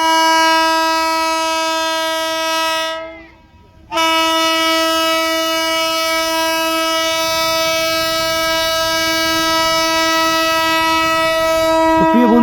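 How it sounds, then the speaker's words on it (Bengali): A CRS trial train on a new line near Bara Gopinathpur sounds a long, loud, steady multi-tone horn, which cuts out briefly and then resumes. The horn stays close and strong for the whole stretch. "ট্রেন কিন্তু রেডি হচ্ছে, তার হর্ন কিন্তু"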